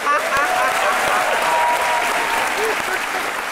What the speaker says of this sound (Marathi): यासाठी तर मी टाळ्या वाजवतोय हो